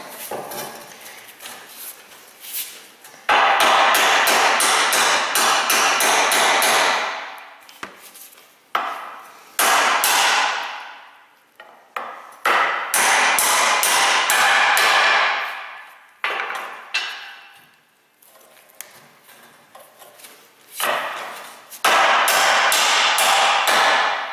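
Heavy hammer pounding repeatedly on a badly worn, loose vehicle U-joint, loud metallic blows in rapid bursts separated by short pauses, close and alone without talk.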